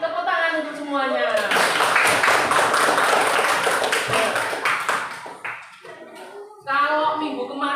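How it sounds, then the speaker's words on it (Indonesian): A classroom of young schoolchildren in an Indonesian lesson clapping their hands together in a loud, rapid burst lasting a few seconds, framed by the teacher's voice speaking before and after. "Tepuk tangan untuk semuanya."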